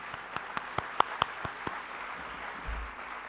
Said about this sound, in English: A big round of applause and big happiness to the class of 2022.